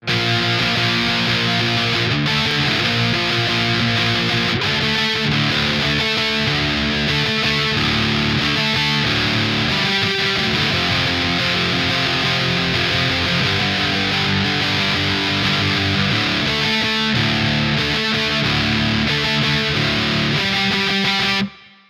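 A distorted electric guitar plays a chugging, repeating riff with dense harmonics, loud and continuous throughout with no voices.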